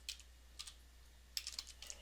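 Quiet bursts of keystrokes on a computer keyboard, short clusters of quick taps separated by pauses, close and faint with no talking.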